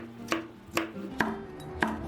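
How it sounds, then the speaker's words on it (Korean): A knife julienning carrots on a cutting board gives four crisp, separate chops spaced about half a second apart, close and fairly loud, with no voices. "당근 채 썰어주세요."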